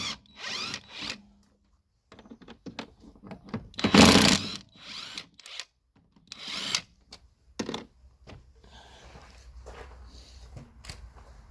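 A power tool loosens a shock absorber nut, whirring in loud close bursts of a few seconds with pauses and clanks between them.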